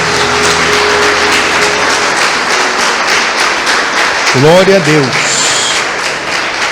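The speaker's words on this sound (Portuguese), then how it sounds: "vamos dar uma salva de palmas, irmãos, ao nosso Deus" Congregation applauding in church, a loud continuous round of clapping, with a short voiced exclamation rising over it partway through and sustained tones beneath.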